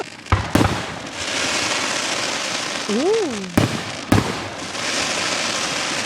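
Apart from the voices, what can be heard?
Gettysburg Fourth of July fireworks exploding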